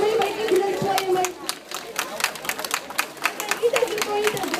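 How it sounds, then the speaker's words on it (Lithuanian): Children clap at a school ceremony on the first day of the school year, a loose patter of handclaps over crowd murmur and shuffling, with an adult voice speaking over it. "Dideli plojimai, vaikai, dideli plojimai."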